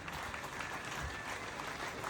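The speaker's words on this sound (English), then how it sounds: "let's give a big round of applause" Faint, distant applause from guests at an embassy Independence Day celebration, a soft continuous patter of clapping heard from afar.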